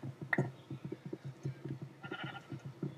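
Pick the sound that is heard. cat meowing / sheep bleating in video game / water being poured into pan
sheep bleating in video game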